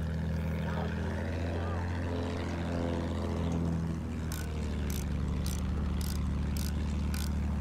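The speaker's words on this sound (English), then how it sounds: "I was trying to track that plane" A WWI propeller aircraft passing overhead in a shooter game set at Caporetto drones with a steady low engine hum, joined partway through by a rapid string of sharp gunfire bursts.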